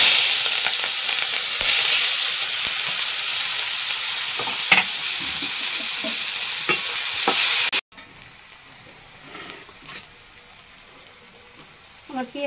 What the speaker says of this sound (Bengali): আর এখন ছেড়ে দেবো পেঁয়াজ।